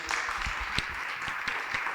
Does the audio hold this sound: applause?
yes